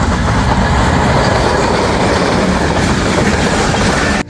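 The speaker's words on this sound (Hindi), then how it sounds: "सुहावा रेलवे स्टेशन पर आए हैं।" A train rumbles loudly through Sohawa railway station in Jhelum, Pakistan, with steady clattering wheels and a dense close roar that continues without a break before dropping off at the very end.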